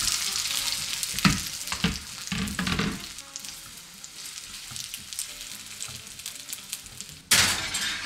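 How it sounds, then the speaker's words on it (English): Potatoes drop into very hot oil in a glass roasting dish, a burst of crackling sizzle with clattering placements early, settling into a steady frying hiss, then a sharp loud clatter near the end. "put them in the glass dish that I've already put the oil in, and the oil by now will be hot"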